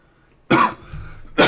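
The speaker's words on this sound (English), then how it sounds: "I have had a cough since then" A man's cough, lingering a month after an illness, sounds as one sharp, close burst followed by a rougher tail, with a second cough starting right at the end.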